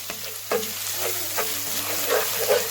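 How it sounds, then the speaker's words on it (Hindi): Garlic and ginger sizzle and fry in hot oil in a pan for chicken karahi, a steady crackling hiss broken by occasional stirring scrapes, close up with no voices. "और ये देखिए हमारे लहसुन और अदरक इतनी अच्छी तरह से भून लिए हैं"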